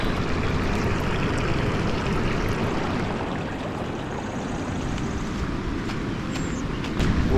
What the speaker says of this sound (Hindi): ये पानी वो ऊपर पहाड़ों से आ रहा है।